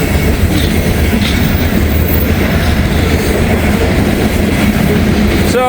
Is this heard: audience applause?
no